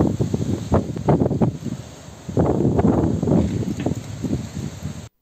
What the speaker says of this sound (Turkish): Elazığ'da öğleden sonra kuvvetli rüzgar ve toz bulutu etkili oldu.